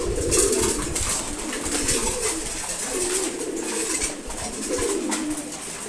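A flock of male pigeons, racers, silver, red checker and Giribaz birds, coo in repeated low rolling calls while feeding in the morning, a dense, fairly close chorus without speech.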